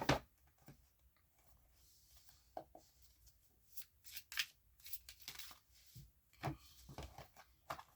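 Tea leaf fortune cards are shuffled by hand at a quiet table, giving soft, irregular papery riffles and flicks in short bursts with pauses between them, close and faint.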